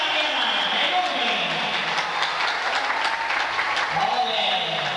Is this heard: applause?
yes